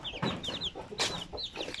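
Basilan native chicks and hens cluck nearby in a coop, with a run of short chirps and soft clucks in an uneven rhythm at moderate loudness, and no talking.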